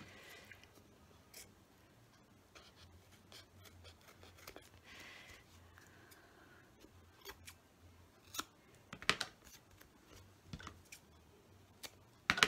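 Scissors snip through fabric while a hide-a-box book journal is being made, a quiet series of close crisp cuts with small rustles and a few sharper snips toward the end.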